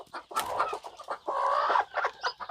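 Siruvidai native hens clucking close by at a farm in Namakkal, a quick, irregular series of short calls, with one longer drawn-out cluck in the middle.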